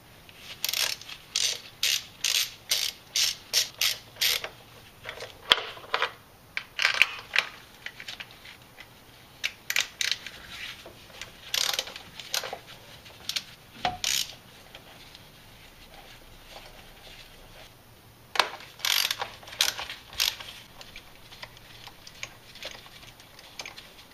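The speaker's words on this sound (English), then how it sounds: "now we're ready to go ahead and pull the bolts out of the valve cover" A ratchet loosens the valve cover bolts on a Jeep 4.7HO engine, producing quick runs of close, sharp clicking in repeated bursts with short pauses between the bolts and no talking.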